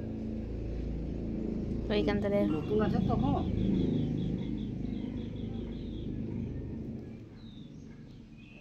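A new farm machine's petrol engine runs with a steady low rumble beneath ongoing nearby talk, easing a little toward the end.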